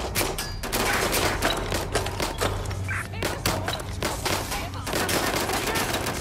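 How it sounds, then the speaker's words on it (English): Dense video-game gunfire from Watch Dogs: Legion, with rapid bursts of automatic fire and single shots cracking close and loud, layered over a steady low hum and scattered thuds for about six seconds. "Gunfire over here!"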